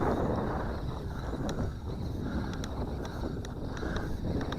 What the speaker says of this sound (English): Breezy day today.